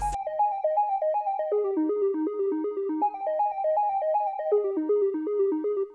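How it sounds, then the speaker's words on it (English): A soft, pure synth triangle wave plays a stepping melodic pattern, delay repeats trailing each note with a gentle shimmering chorus width, steady and alone. "So I've just got this triangle wave"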